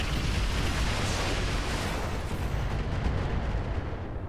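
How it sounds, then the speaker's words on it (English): A volley of MRM missiles fires in the BattleTech-based game Roguetech, a continuous roaring, rumbling barrage of launches and blasts, loud and unbroken for several seconds. "might as well fire the MRM"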